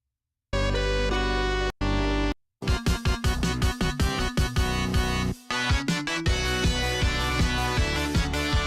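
Bright FM-style chiptune in the manner of Sega Mega Drive/Genesis music, played on the ChipSynth MD software synthesizer, with sustained chords, then punchy rhythmic bass and lead notes after short gaps, loud and alone.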